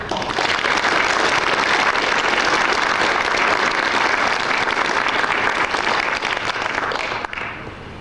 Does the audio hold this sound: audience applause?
yes